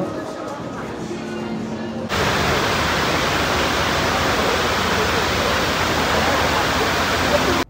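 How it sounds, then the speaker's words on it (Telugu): A man-made indoor waterfall inside Dubai Mall gives a steady, dense rush of falling water that swells suddenly to full strength and then holds loud and continuous, with faint mall ambience behind it. "ఇది మ్యాన్ మేడ్ వాటర్ ఫాల్ అనమాట."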